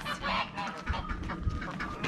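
Farm ducks and geese at feeding time, with a few short honks and quacks close by over a noisy outdoor background.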